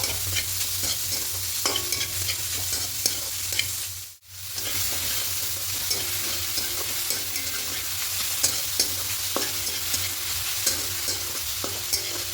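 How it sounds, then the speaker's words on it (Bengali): Grated carrot is stirred with ghee in a pan, giving a continuous soft sizzle with repeated scraping strokes of the spoon; a single brief pause breaks the frying midway. "খুব ভালো করে ঘিয়ের সঙ্গে মিশিয়ে নিয়েছি"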